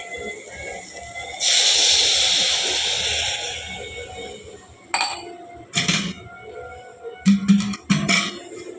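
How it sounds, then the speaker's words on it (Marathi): Water splashes into a hot pan of soybean curry with ground masala, giving a loud sizzling hiss for a couple of seconds, followed by scattered clinks of a utensil against the pan. "पाणी टाकून घेतो याच्यामध्ये."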